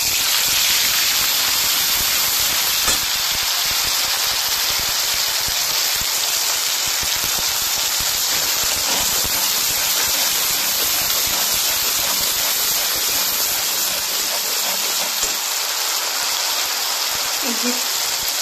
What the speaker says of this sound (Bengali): তেলটা তো গরমই আছে, তো আমি প্রথমেই দেবো আদা রসুন পেস্ট করে রেখেছিলাম একসঙ্গে